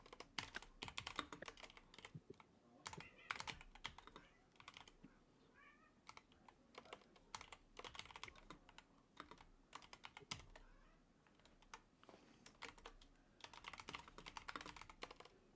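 Steady typing on a computer keyboard, soft, irregular clusters of key clicks continuing throughout at low level, with no clear talk.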